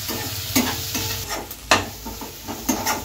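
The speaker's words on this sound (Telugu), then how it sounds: "ఇలా వేగినాయి, కచ్చపచ్చగా వేపుకున్నామండి" Onion, tomato and green chili tempering fries in a pan with a steady sizzle, punctuated by scraping stirs of a spatula, close and fairly loud.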